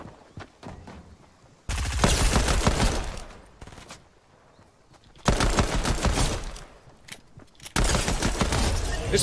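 Pistol gunfire in the video game Fortnite, loud rapid bursts of shots in three separate volleys, each lasting a few seconds, with quieter game sounds between them.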